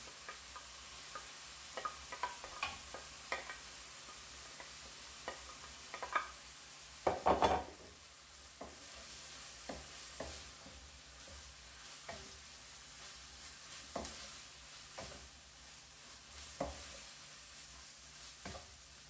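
Onions frying quietly in a pan for spaghetti, faint steady sizzle with scattered spatula taps and one louder clatter of utensil against the pan, no talk.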